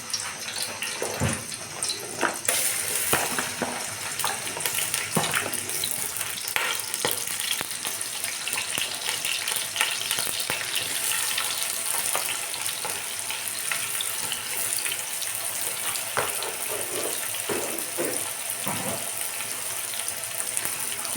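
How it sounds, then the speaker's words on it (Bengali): Sliced onions frying in a pan of hot soybean oil for kachchi biryani, a steady, dense sizzle and crackle running throughout with occasional louder pops, close and continuous. "তেলটা গরম হয়ে আসলে আমি এখানে দিয়ে দেবো পেঁয়াজ বেরেস্তা করে নেব আমরা"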